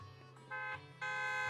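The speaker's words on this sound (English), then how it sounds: "Beep beep, a loud honk echoes as several trucks with the leaps and bounds logo drive into the open area." Truck horns honking in Zenless Zone Zero as several trucks drive into an open area, a loud steady buzzing tone that steps up in volume and holds, with no talk.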